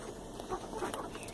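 Chickens clucking at a small farm, a few faint short clucks scattered over a quiet background.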